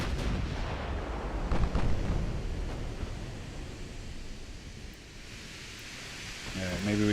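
Warship guns boom in the Ultimate Admiral: Dreadnoughts naval game, heavy blasts rolling over a wash of sea and wind noise, with a louder salvo early and rumbling echoes fading after.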